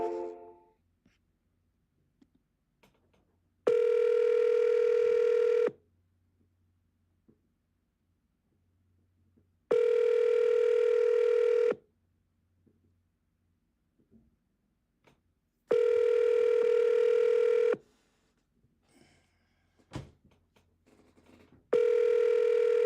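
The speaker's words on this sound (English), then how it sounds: "I'm gonna triple dial this guy" A phone call repeatedly dialed, with long steady electronic ring tones of about two seconds each, separated by stretches of near silence and small handling clicks, sounding clear and close.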